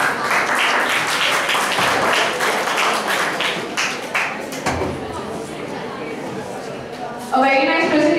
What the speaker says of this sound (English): I wish the audience would give a round of applause.